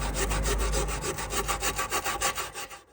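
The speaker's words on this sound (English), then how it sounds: "So I just need to scrub all that back and clean it all out." Small brushes scrub rust eater off bare car body metal, a close, steady rasping of back-and-forth strokes that grows more distinctly rhythmic before stopping.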